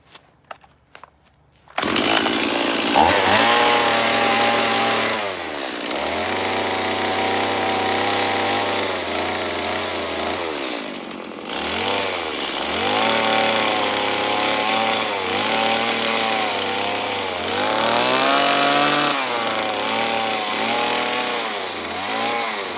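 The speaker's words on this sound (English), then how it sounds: "I'll clean that up with the saw" Chainsaw cutting wood while carving a bear sculpture, loud and close, its engine rising and falling in long revving bursts with short dips between cuts, after a few quiet knocks at the start.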